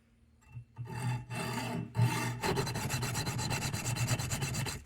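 Cast brass knuckles held in a vise have their gates cut off with a hand saw, a series of rough rasping strokes, a few separate at first and then a fast continuous back-and-forth run, close and fairly loud.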